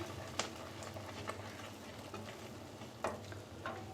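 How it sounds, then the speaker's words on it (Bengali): A spoon keeps stirring semolina and milk in a pan for rosh malai, giving soft scraping, faint bubbling and a few light clicks against the pan under a low kitchen hum, with no talking. "দুধটা দিয়ে অনবর্ত নাড়তে থাকবো যাতে করে সুজিটা দলা পেকে না যায়"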